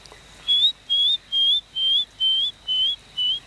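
In a rainforest, a man whistles seven short rising calls at an even pace, each a clear two-part note imitating a cuckoo's call, loud and close against a quiet background.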